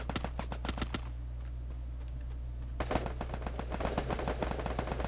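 Gunfire in the Free Fire mobile battle game, rapid bursts of sharp shots in quick succession, dense and loud, with a brief lull before an even faster automatic stretch, no speech.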